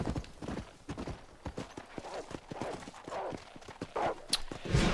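Horse hooves galloping across the ground in Red Dead Redemption, a steady rapid clip-clop rhythm of close, distinct strikes continuing throughout, with a brief snort near the end.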